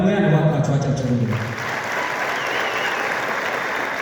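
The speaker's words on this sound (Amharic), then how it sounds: "ሳምሶን ታደሰ ዴቪና ዘሪሁን አስማማው እና ከዚህ በመቀጠል ደግሞ ታላቁ የኢትዮጵያ ብሔራዊ ቲያትር አስተዳደርና መላው ባለሙያ እባካችሁ አጨብጭቡ።" An audience at the Ethiopian National Theatre bursts into sustained, dense applause that fills the hall; a voice speaks over the first moments before the clapping carries on alone.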